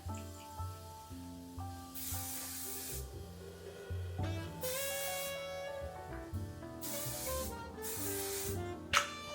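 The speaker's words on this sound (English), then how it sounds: "Spray this spray on." Hair spray hisses onto a wig in a few separate bursts, each lasting about a second, all under steady background music.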